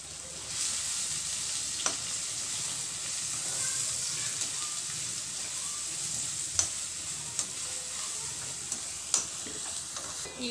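Green chillies frying in a pan with steady, soft sizzling throughout, punctuated by a few sharp clinks of a utensil against the pan.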